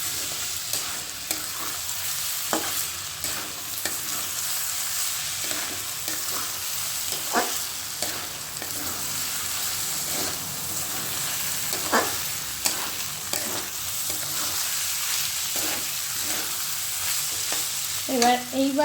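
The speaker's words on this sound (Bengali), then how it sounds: "একটু নেড়ে নিই।" Rice stirred in a pot with water for fish-head muri ghonto: continuous hiss with irregular soft scrapes and knocks of the spoon against the pot, close and steady, no voices.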